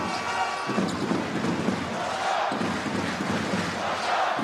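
A basketball crowd roars and cheers steadily in an Amman arena during a Jordan home game, a dense surging wall of noise with a commentator talking over it.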